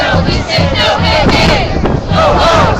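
A crowd of roughly 300 to 400 protesters chants in loud, rhythmic bursts at an Obama protest outside a Pacific Heights mansion in San Francisco, the repeated shouted phrases rising and falling steadily throughout.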